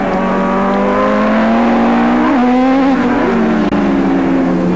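Race cars at Calder Park during a 1987 Swann Series touring car race, engines roaring loudly and steadily with pitch shifts as drivers brake into a tight right-hander, no talk over it.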